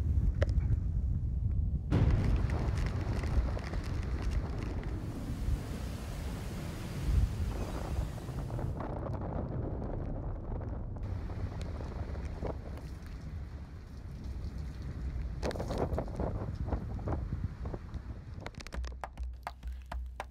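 Strong wind roars across the microphone while heavy seas surge and crash around a boat in squalls near the Great Barrier Reef, with loud bursts of spray and gusts.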